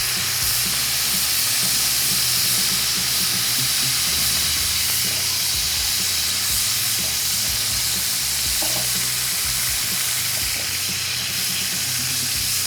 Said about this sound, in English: we're gonna smash these patties down almost as thin as you can get them